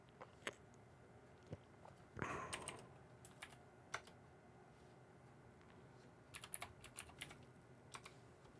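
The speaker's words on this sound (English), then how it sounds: "you didn't get to see me typing in passwords" Typing on a computer keyboard while entering passwords: quiet, irregular clicks scattered across the stretch, with a short louder flurry of keystrokes early on and scattered taps later, no voices.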